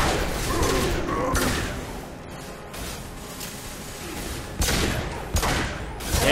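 Rapid gunfire rattles through Mass Effect 2 combat, dense bursts of shots and heavy thuds close and loud, with a pause mid-way before more sharp blasts, under occasional speech.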